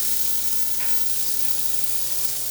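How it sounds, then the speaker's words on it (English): Steady, even sizzling of celery, carrots and onions frying in a hot pan, a continuous close hiss with no voices. "And again, you want to hear that sizzle."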